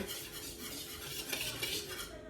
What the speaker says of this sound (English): Now we gotta whisk it together